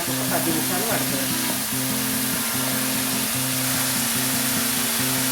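Carrots fry in oil over medium heat with a steady, loud, broadband sizzle, joined by a low repeating hum and a few faint clinks early on.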